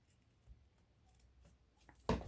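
Scissors cutting through a file folder for a handmade junk journal: faint papery rustling, then a single sharp, close snip near the end.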